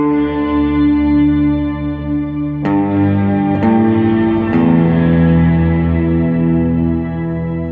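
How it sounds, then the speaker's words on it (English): An electric guitar plays through a Source Audio distortion pedal, sustained chords ringing with heavy effects and echo, then three struck chords in a row, loud and up front with no speech. "I could just add some distortion, and I can dial it in how I like"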